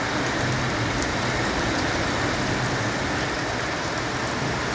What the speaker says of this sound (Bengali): এই দেখো বৃষ্টি শুরু হয়েছে